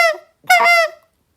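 A handheld goose call imitates a landing goose with a spit moan: two loud, close, reedy honks, the second longer and drawn out, with silence between and after.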